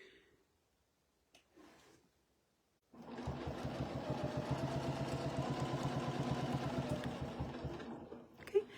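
A sewing machine stitching a quilt block starts after a few quiet seconds of small handling noises, then runs in a steady, close, rapid mechanical chatter for about six seconds before stopping.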